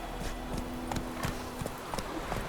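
Roach, Geralt's horse in The Witcher 3, trots along with a steady clip-clop of hooves, moderately close, over a low ambient game soundscape.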